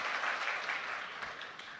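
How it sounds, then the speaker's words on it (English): Conference audience gives a round of applause for the organizers at a Ruby developer event, a steady wash of many hands clapping at a distance, fairly soft and continuous throughout. "shall we start with a big round of applause to the all fantastic organizers of Ruby"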